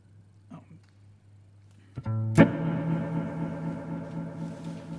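After near silence, an electric guitar note is plucked through a delay set high, ringing out loudly as its repeats pile up and slowly decay.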